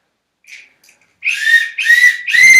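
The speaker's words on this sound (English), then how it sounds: "Long whistle." A long, shrill whistle blast at a sailboat race start sounds close and loud, broken into a few sustained bursts after a faint brief chirp.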